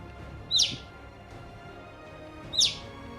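A small bird gives two sharp, high chirps about two seconds apart over a quiet background in a village setting.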